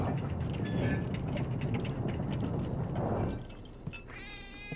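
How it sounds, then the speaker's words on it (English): A cat meows in the video game The Operator, heard over a dense, steady game background that drops away near the end, leaving a short higher-pitched cry. "Cat."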